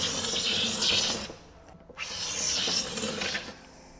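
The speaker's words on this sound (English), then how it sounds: "Let's see if scraping will work." Two long, rasping strokes of a scraper taking old finish off an antique wooden buffet, close and fairly loud, with a brief pause between them.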